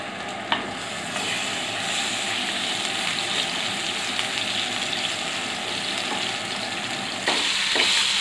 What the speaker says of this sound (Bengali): তেল গরম হয়ে গেল, এবার মাছটা আমি ভেজে নিচ্ছি।